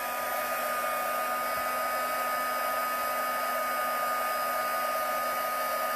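An embossing heat tool blowing hot air over a stamped Christmas card, a steady, close whirring hum of fan and blower noise that holds constant throughout with no talking over it.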